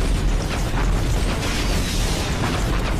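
Missile explosions in the Iron Man 2 video game form a dense, continuous barrage of loud booms and bursts, with no clear gaps between blasts.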